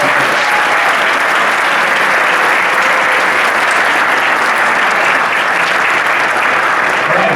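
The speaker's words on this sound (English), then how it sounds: "Big round of applause for all those awesome kids." Loud, dense applause from a high school band pops concert audience, a continuous wash of clapping that holds at full volume throughout with a faint murmur of crowd beneath.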